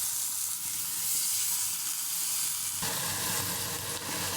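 Elencha greens tossed into a pan of frying fish, a steady hissing sizzle that grows louder and brighter partway through, no voices.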